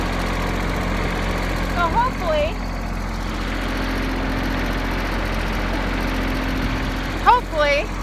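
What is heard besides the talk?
snow blower engine running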